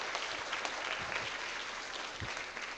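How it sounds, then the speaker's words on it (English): An audience at a university Three Minute Thesis symposium finale in a hall gives a round of applause, steady moderate clapping that sounds somewhat distant, with a few sharper claps standing out. "Let us all give our presenters one more big round of applause for their fantastic presentations."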